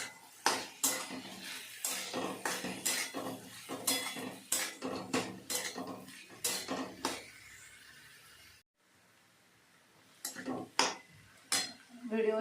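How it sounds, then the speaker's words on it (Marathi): Potatoes and mixed vegetables being sautéed in oil for a mixed bhaji, with repeated metal spoon scrapes and clinks against the pan in a steady, fairly close rhythm, a short pause, then a few more stirring knocks. "आणि बटाटा तेलात छान परतून घ्यायच्या आहेत भाज्या"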